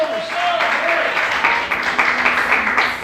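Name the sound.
congregation applause in church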